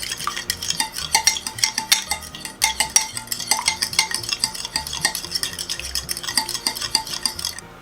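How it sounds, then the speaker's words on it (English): A fork whisks buttermilk and egg in a bowl, giving quick, rhythmic clinking taps against the sides that repeat steadily and close up, with no voices. "we're going to mix this with the fork. Mix this up well."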